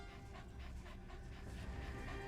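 Dog companion in Metal Gear Solid V breathing in steady, rapid panting, a soft continuous rhythm at moderate level with no voices over it.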